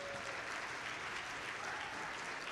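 Audience applause fills the closing of a PCH district robotics event in Dalton hosted by Shaw Industries, a steady dense clapping from a large crowd, loud and continuous throughout.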